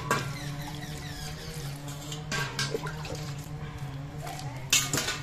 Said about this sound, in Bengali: আমি কলে নিয়ে গিয়ে ধুয়ে নিচ্ছি।